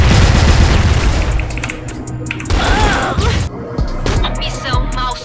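Loud booming blasts and chaotic gunfire fill a shooter game match where a WWII-style grenade goes off, dense continuous rumble with sharp crashes and no clear pauses.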